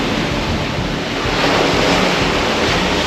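Steady rushing of following sea waves around a sailing boat off the Outer Hebrides, with continuous wind buffeting the microphone; no voices.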